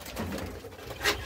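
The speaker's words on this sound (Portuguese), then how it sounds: "Conhecer então os pássaros." Pigeons or doves on a small farm give a soft, low cooing with light fluttering and patter, close by and without talk, ending in a brief brighter burst.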